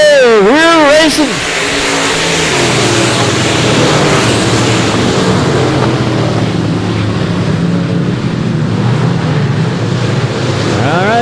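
Race cars surge off the start at a dirt-track qualifying night in South Texas, a loud, sustained roar of several engines blending together with heavy wind buffeting. A loud voice is heard briefly at the very beginning.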